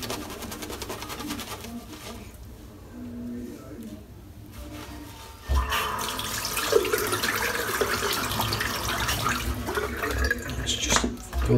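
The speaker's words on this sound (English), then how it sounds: "Fill the sink up, and dip of some water because it's a little bit dry" Tap water filling a bathroom sink during a head shave, a quieter stretch first, then a strong steady rush of running water from the middle onward, with someone talking over it.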